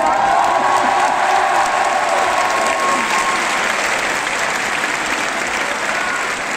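Dense, steady applause fills a Paris political rally hall for Anne Hidalgo's 2022 presidential campaign, a large crowd clapping loudly and continuously with a few faint voices mixed in.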